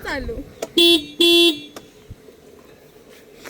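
A car horn sounds in two short, loud, steady honks in quick succession, close by, while people talk around the vehicle.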